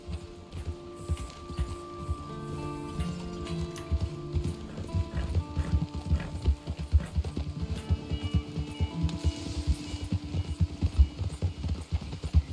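Horse hooves clip-clop in a steady, continuous rhythm in a video game, with occasional whinnies over a low background score.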